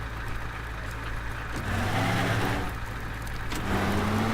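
A vehicle engine in the video game Teardown, a steady close drone whose pitch rises and falls as it drives, with no talk over it.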